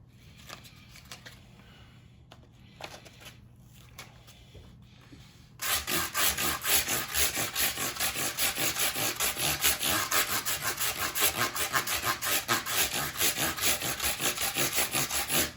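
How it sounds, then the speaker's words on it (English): Sandpaper wrapped on a soft foam block scrubs across electric guitar frets in a steady back-and-forth rasp, loud and close, starting after a few seconds of quiet handling noise. "Just take a soft foam block. We'll start with sandpaper."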